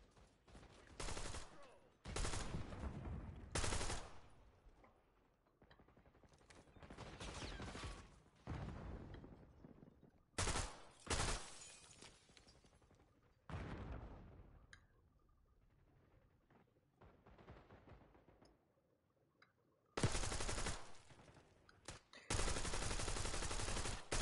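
Loud, close bursts of automatic gunfire in Black Ops 6, arriving in separate volleys with quieter gaps between them, and long sustained sprays near the end.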